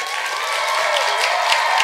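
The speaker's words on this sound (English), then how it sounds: "Can we please give them a massive round of applause?" Dense audience applause fills the space steadily and loudly throughout, a continuous wash of many hands clapping at once with no pauses.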